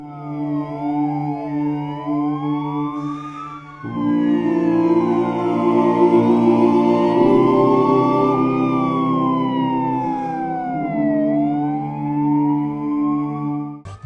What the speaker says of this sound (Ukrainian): Запам'ятали кам'янчани цей день і виттям сирен похоронного кортежу українського героя